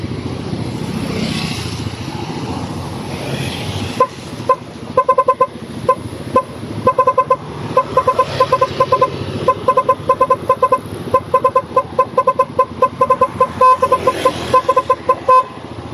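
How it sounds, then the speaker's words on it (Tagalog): A rapid series of bright, tinny electronic beeps and chirps from a pop-up doll toy, sounding in quick irregular bursts over a steady background hum. "Ito naman ang pang-siyam na tunog ng Pop-Up Doll."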